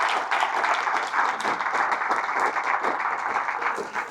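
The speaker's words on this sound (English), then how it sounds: "can we give a big round of applause to Father Reverend Monk Malloy?" Audience applause at a leadership talk, a dense, even clapping from a full crowd that carries steadily throughout without pause.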